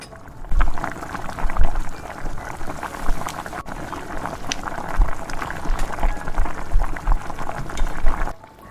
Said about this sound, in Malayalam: ഇപ്പം നല്ലപോലെ തിള വരുന്നുണ്ട്